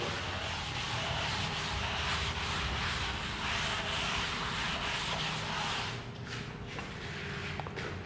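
Steady, close rubbing of an object by hand during a physics demonstration of heat and temperature change, a continuous friction-like scraping that runs for about eight seconds with no talk.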